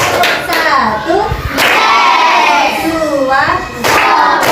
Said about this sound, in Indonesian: Tepuk semangat belajar.